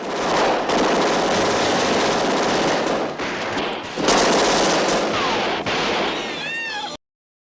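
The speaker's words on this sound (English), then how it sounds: "A shootout erupts." Gunfire from a film shootout in a 1967 crime drama, a dense continuous roar of rapid shots and bursts, loud and close, with brief breaks and a few whistling tones near the end before it cuts to silence.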